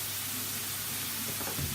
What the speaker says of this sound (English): Add your spinach there.